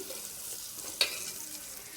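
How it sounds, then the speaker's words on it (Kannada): Peanut and tomato sambar bubbling in a pot, a steady soft hiss with one brief sharper pop or clink near the middle, fairly quiet and without talk. "ಇವಾಗ 5 ನಿಮಿಷ ಆಯ್ತು ರೀ ಕುದಿಯಾಕತ್ತು ನೋಡಿ"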